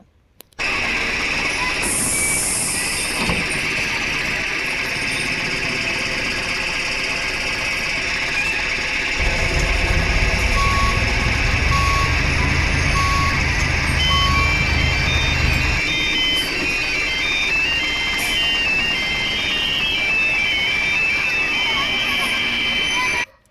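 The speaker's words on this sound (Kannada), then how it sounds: "ಸೊ ಇವಾಗ ನೀವು ಕೇಳಿಸ್ಕೊಬೋದು, ವಿಸಿಲ್ ಸೌಂಡ್ ಬರುತ್ತೆ ಯಾವುದಾದ್ರೂ ಗಾಡಿ ರಿವರ್ಸ್ ಬರುವಾಗ." A vehicle in the game Bus Simulator India gives off a repeating electronic reversing whistle and beeps over a continuous engine drone, with a heavier rumble swelling midway and voices murmuring throughout.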